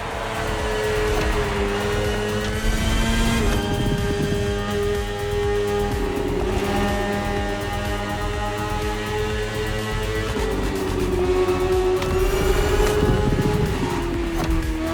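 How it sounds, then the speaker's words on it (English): A BMW S1000RR superbike engine in The Crew Motorfest drones loudly and steadily, holding a high whine with slight pitch dips and rises as the revs shift, with no voices over it. "S1000RR. It's what we call a superbike."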